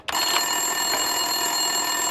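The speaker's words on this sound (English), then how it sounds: "Winterson's phone was ringing." A telephone rings on a desk in the video game Max Payne 2, a loud, sustained electronic ring that starts abruptly and holds steady throughout, with no talking.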